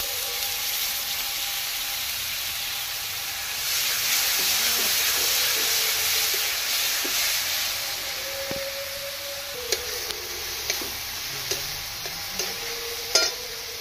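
Tomato paste hits a pan of fried spices for a Bengali doi chingri, setting off a steady, close sizzle and hiss with scraping stirs and a few sharp utensil clinks toward the end.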